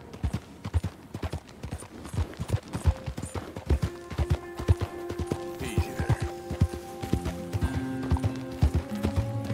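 Steady clip-clop of horse hooves trotting in Red Dead Redemption 2, fairly close, with a faint whinny and some background music tones.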